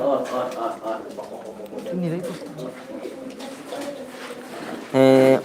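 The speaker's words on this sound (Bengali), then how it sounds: "আর সবচেয়ে সুন্দর এই জোড়া কবুতর" Fancy pigeons coo repeatedly throughout at a pigeon farm in Sylhet, Bangladesh, with soft murmuring calls from several birds close by and a brief louder burst at the end.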